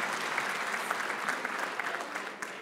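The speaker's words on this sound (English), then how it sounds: "who gets no less a round of applause for" Sustained applause from a graduation ceremony audience at a college, steady dense clapping from many hands filling the room at moderate level without pause.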